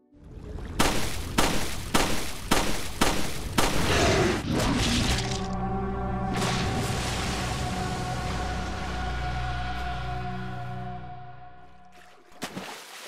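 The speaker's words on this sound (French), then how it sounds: "si vous approchez de ce lac et que vous vous amusez à tirer dans l'eau" Gunfire into a lake in a video game: a rapid string of five or six loud, sharp shots, then a sustained splashing roar with a ringing, reverberant tail that slowly fades, and a final brief burst near the end.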